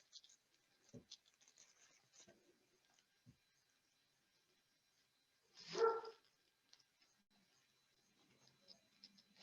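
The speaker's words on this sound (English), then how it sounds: "You may hear my dog barking in the background" A dog barks once, loudly, in the background during a public meeting held over a call, with quieter clicks and faint noises before and after.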